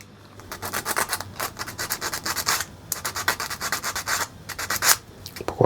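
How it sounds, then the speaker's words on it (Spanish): Close-up sanding of a small model kit part: quick back-and-forth rasping strokes in uneven bursts, with short pauses between passes. "Como no quiere entrar, vamos a lijar un poco."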